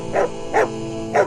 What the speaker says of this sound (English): The dog barked all through.